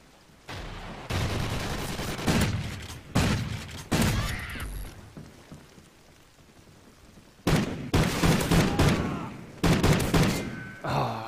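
Repeated bursts of automatic gunfire from a Call of Duty Ghosts gun-game match, loud clusters separated by quieter gaps, with a long lull in the middle before more rapid volleys.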